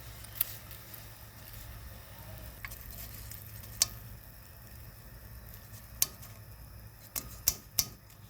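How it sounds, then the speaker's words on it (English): Quiet, steady sizzling of tofu frying in a pan, with occasional sharp clicks and taps of a utensil against the pan. "We're frying. This is tofu."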